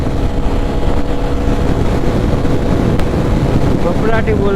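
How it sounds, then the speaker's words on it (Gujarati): Strong wind buffets the microphone continuously during a road trip to Ambaji, a loud rumbling roar with faint traffic and brief voices near the end. "હવા બહુ લાગે છે"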